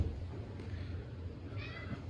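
A house cat gives a short, faint meow near the end, over a steady low indoor hum with no talking.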